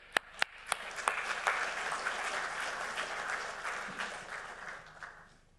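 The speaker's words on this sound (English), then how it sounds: "Let's give them a round of applause." Audience applause as expert panelists on AI and IoT security join the stage at a conference, opening with a few sharp individual claps before building into steady, moderately distant clapping from the crowd.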